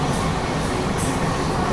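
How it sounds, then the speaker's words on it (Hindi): Rani Kamlapati–Nizamuddin Vande Bharat Express running on a parallel track, heard as a loud, steady rumble and rush of rail noise from inside a moving train, with no clear breaks or voices. "उसके पीछे ये आ गई वंदे भारत, रानी कमलापति निजामुद्दीन वंदे भारत"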